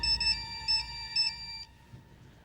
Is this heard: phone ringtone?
yes